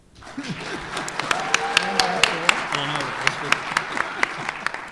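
Conference audience applauding at the close of a software architecture session on microservices, a moderate wash of claps with sharper individual hand claps standing out, while voices murmur and talk underneath throughout.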